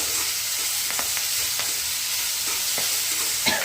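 Onion frying in a pan for potato chutney makes a continuous close sizzle, broken by scattered scrapes and taps of stirring, steady in level with no voices.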